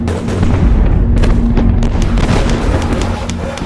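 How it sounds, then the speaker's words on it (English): Artillery barrage in a documentary battle scene, a dense run of heavy booms and cannon blasts that overlap continuously for a few seconds, loud and rumbling. "Napoleon gathers every available gun to blast the Austrians, who fall back under a withering barrage."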